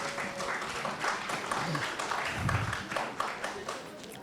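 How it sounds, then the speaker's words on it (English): Applause rises from the audience after a closing-remarks introduction at a gathering of traditional leaders on child marriage, a moderate patter of clapping running throughout with talk and brief taps mixed in. "a round of applause for Dr. Do as he comes to give us his closing remarks for this session"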